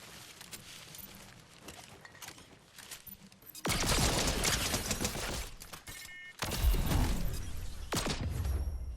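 Rapid gunfire from Fortnite's lock-on pistol, light bursts early on, then dense loud volleys that run for several seconds among other game effects and impacts.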